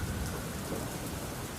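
Heavy rain pours down steadily with rumbling thunder in a rural setting, a dense, constant downpour that holds at an even loudness throughout, with no voices.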